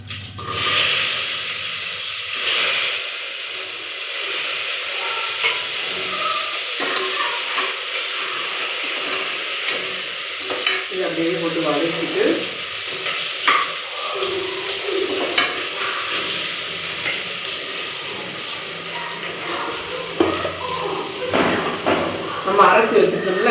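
Small shallots, a large onion and green chillies sauté in a pan, giving a soft continuous hiss and sizzle with occasional stirring scrapes and clinks, fairly close.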